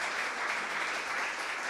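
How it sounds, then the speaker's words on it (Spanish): Applause from an audience honoring a team that won an award at a science and technology event in Chile, a steady dense wash of clapping throughout, fairly loud and with no voices over it. "un muy buen aplauso, se lo merece"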